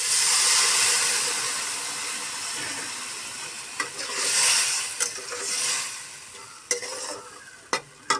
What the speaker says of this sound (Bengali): নাড়াচাড়া করে দিয়ে দেবো একটু জল অল্প করে জল দিতে হবে